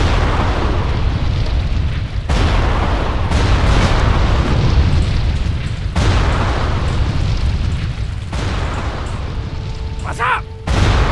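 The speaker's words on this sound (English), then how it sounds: "I'll try to hold off the cannon fire." Cannon fire booms in World of Warcraft along the Cape of Stranglethorn, a dense run of deep blasts and rumbling impacts lasting throughout, loud and close, with game voices mixed in.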